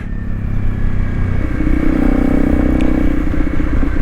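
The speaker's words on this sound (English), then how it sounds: "Join me on the CRF 250 on my way to work." Honda CRF 250 Rally motorcycle riding on a morning commute, its engine droning steadily and loudly throughout with a slight rise in revs partway, no talking.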